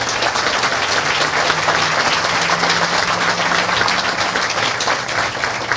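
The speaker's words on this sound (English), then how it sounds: "Let's give them a round of applause." Steady, loud applause from an outdoor groundbreaking ceremony audience for the SR 400 Express Lanes project in Georgia, continuous dense clapping that fills the whole stretch without letup.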